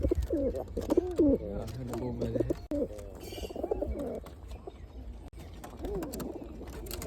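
Pigeons, with new chicks, coo repeatedly nearby in soft, throaty bursts, with a person speaking briefly among the calls.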